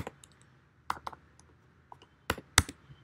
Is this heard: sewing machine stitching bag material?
no